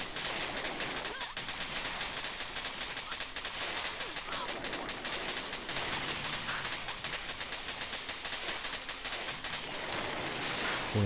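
Rapid, dense bursts of mortar and tank fire from the Boom Beach mobile strategy game, a continuous crackling barrage of gunfire-like explosions at even loudness throughout.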